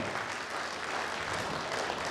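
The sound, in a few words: audience applause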